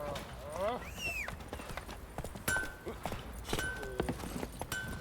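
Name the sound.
horse hooves clip-clop in The Witcher 3 video game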